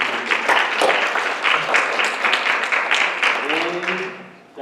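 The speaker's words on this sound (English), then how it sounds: "So please give them a round of applause." Audience at a township board of education meeting applauding staff, steady dense clapping for about four seconds that tapers off as a speaking voice comes in near the end.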